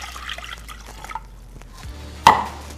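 Water is poured into a pan to make a maltose sauce for Peking duck, with a few soft drips and liquid sounds ending in a sharper splash near the end, close and fairly faint.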